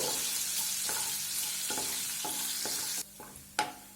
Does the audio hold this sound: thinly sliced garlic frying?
yes